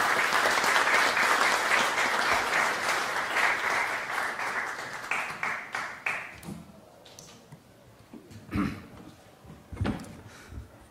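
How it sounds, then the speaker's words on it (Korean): A seminar audience at a forum on small businesses claps loudly to welcome a lawmaker to the podium. The dense applause thins and fades after about six seconds, leaving a few scattered claps and sharp taps and knocks. "큰 박수로 맞이해 주시기 바랍니다."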